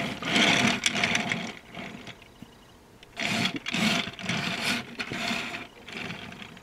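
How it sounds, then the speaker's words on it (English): A Transformers Cybertron Voyager Class Mudflap toy truck with twelve pinned plastic wheels rolls across a surface. It makes several close whirring, rumbling passes separated by brief pauses. "So we have 12 wheels on this thing, all of which are pinned on and all of which roll pretty well."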